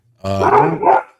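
Dog giving one loud, close bark with a slightly growly tone, a short single burst sounding alone after a brief quiet lead-in.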